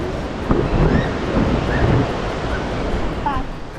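The waterfall at Bell Gorge on the Gibb River Road gives a steady, broad rushing roar of falling water, with some wind buffeting the microphone and faint voices in the background.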